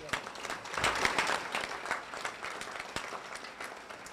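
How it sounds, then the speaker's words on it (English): Steady applause from an audience at a high school athletic awards banquet in Farmersville, many hands clapping at moderate, fairly soft level, swelling briefly then easing off over a few seconds. "so give them a round of applause for that."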